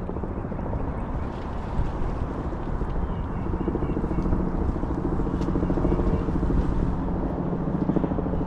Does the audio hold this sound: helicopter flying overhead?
yes